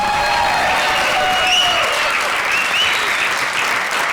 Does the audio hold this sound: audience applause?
yes